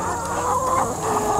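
A flock of about a thousand laying hens clucks steadily inside a mobile hoop house on a farm, a dense, continuous chorus of overlapping clucks with no voices.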